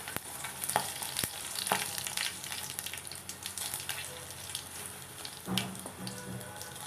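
Cumin, green chilli and curry leaves tempering in hot oil for a peanut chutney, a close steady sizzle with a few sharp clicks and scrapes of a spoon.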